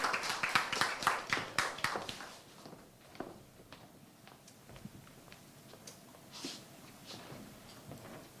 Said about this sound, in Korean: 오늘 유정우 박사님 나오실 때 여러분 큰 박수 부탁드립니다